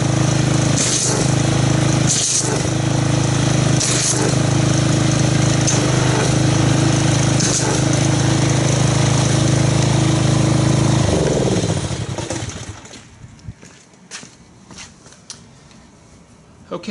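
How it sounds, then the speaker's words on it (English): A pressure washer runs loud and close for about eleven seconds while spraying car wash soap foam, with a few sharp bursts over the steady roar, then cuts off, leaving faint handling noises. "let's go ahead and get our pressure washer, see what kind of foam we can get out of this"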